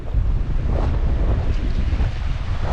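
Strong wind buffets the microphone as waves break against a mangrove shore, a loud, steady roar of gusts and surf with no voices.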